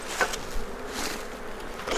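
Agitated honeybees buzz steadily and densely at an open hive, close by and continuous for the whole stretch, with no one talking.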